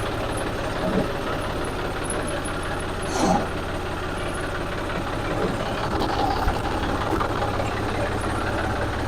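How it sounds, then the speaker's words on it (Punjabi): A 2010-model John Deere tractor engine runs in a steady, close diesel drone at idle, with a slight rise in revs partway through and a constant low throb underneath. "ਆ ਸਟਾਰਟ ਦੀ ਆਵਾਜ਼ ਦੇਖ ਲਓ ਰੇਸ ਕਰੋ ਥੋੜੀ"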